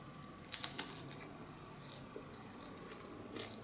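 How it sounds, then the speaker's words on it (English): Crunchy bites and chewing of a raw cracker in a close, quiet setting, a few crisp crunches early then softer chewing. "Hear that crunch?"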